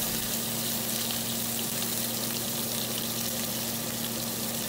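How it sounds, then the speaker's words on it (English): A steak searing in a hot pan gives a dense, continuous, loud sizzle that holds steady throughout, heard up close with nothing else over it. "So you're going to just let that sear on each side for at least a minute or so"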